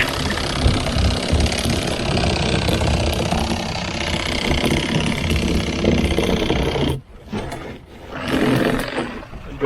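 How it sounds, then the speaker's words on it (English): A Bubba Blade electric fillet knife buzzes loudly and steadily while filleting walleye after a Lake Erie outing, its motor whine continuous for about seven seconds before briefly cutting out and starting up again. "Bubble blade, electric fillet knife"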